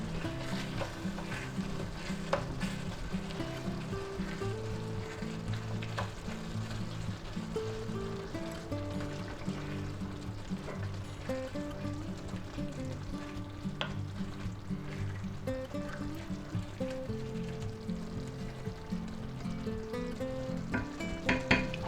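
Ground beef mixed with seasonings sizzles in a skillet for a budget shipwreck dish, a steady close frying crackle with repeated spoon stirring and scraping throughout, no talk.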